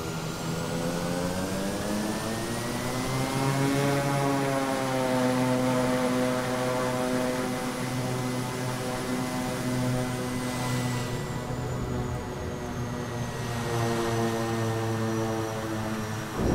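Kodiak 100 propeller aircraft engine sound pack in Flight Simulator 2024: a continuous droning turboprop hum whose pitch climbs, holds steady, then dips slightly, with no talk over it.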